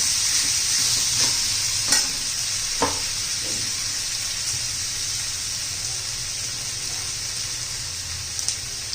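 Diced potatoes cook in oil with no water for a potato bhaji, stirred steadily in the pan: a continuous close sizzle with a few light spoon scrapes and clicks near the start, no talking.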